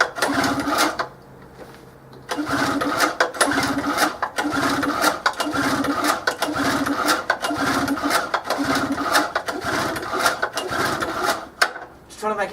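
A petrol generator running on old fuel is pull-started with the choke on, giving repeated rhythmic mechanical bursts of cranking and sputtering across the clip, loud and close, without clear running.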